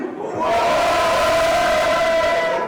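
A crowd at a dance battle event in Montpellier erupts in loud cheering and shouting, a dense roar of voices that swells quickly and holds steady.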